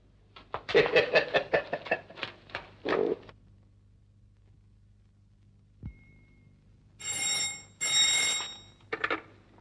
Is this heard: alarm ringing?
yes